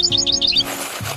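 A bird chirps in a quick series of high, bright tweets. A short rustling burst follows, then a low tone.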